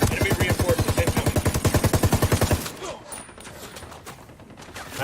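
Rapid automatic gunfire in the tactical shooter game Ghost Recon Wildlands, a dense loud burst of repeated shots lasting a few seconds before cutting to quieter, muffled background noise.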